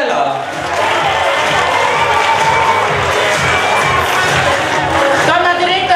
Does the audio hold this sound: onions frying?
no